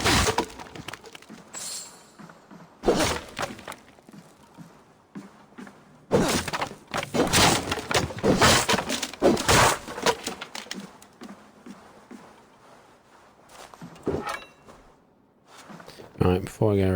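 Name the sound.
smashing wooden boxes in Assassin's Creed Valhalla video game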